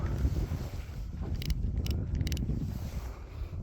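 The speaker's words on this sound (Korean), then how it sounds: "바람이 세게 불어가지고" Strong wind buffets a microphone outdoors on the coast, making a steady, loud low rumble with gusty swells throughout and no talking.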